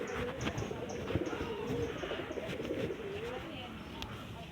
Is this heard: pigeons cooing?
yes